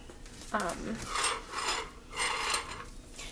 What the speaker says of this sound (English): I'm going to go ahead and show you on this one how I did the scoring.